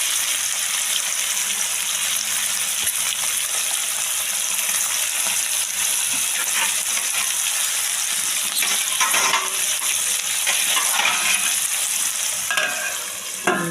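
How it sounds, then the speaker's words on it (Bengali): Dal fries in a pan during fried rice preparation, a continuous close sizzle with frequent stirring scrapes and clatters over the whole stretch. "ডালটা প্রায় ভাজা ভাজা হয়ে গেছে"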